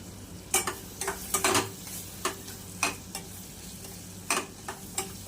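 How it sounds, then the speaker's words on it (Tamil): Beans and carrots are sautéed in a pan for prawn semiya, a soft frying hiss broken by repeated scraping stirs and light clinks of a spoon against the pan, close by and fairly quiet. "நல்லா வதக்கி விட்டுறலாம்"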